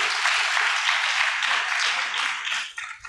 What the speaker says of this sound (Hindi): एक बार जोरदार हमारे निर्णय के लिए तालियां ठोको